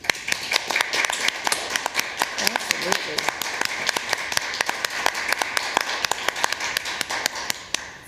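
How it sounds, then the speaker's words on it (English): Meeting attendees at a state board of education session clap together for several seconds, a steady patter of many hands, with brief spoken remarks heard over it. "Could we applaud for these opportunities?"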